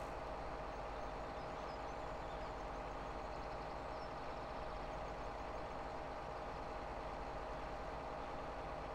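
A tractor pulling a seeder in Farming Simulator 17 drones with a steady, low engine hum that holds unchanged from start to end, with no voices.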